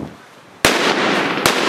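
Two sharp, loud firework bangs go off close by during street fireworks in Valencia, less than a second apart, each leaving a crackling rumble.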